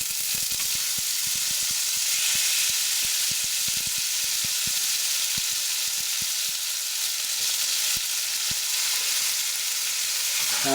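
Chili hits a hot pan for penne arrabbiata, giving a loud, steady sizzle and hiss that carries on throughout with faint crackles, nearby and without talk.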